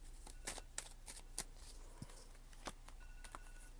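Tarot cards are shuffled and drawn, a quick flurry of crisp flicks and riffles, close and quiet, with a soft tap partway through.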